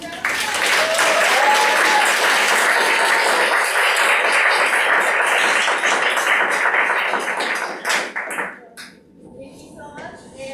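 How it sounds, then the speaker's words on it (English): Audience at a Toastmasters joint meeting in Seoul bursts into loud, sustained applause that fills the room, then thins out into scattered claps near the end. "So please give them another round. Big round of applause."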